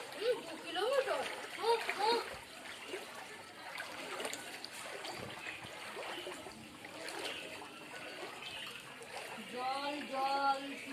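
Footsteps wading through village floodwater, repeated sloshing splashes and trickling water close by, with several people talking over them throughout.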